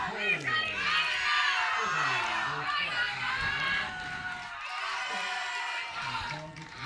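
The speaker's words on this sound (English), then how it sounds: "the cheering is really loud from these 2 teams" Youth archery teams cheer loudly during a recurve team final, with shouts, whoops and excited crowd voices in sustained waves, while a commentator talks over the noise.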